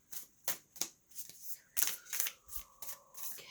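Sacred Traveler Oracle cards by Denise Lynn shuffled by hand in a quiet room, a run of about ten crisp papery riffles and slaps at a steady, slightly uneven rhythm, close and clear with no talking.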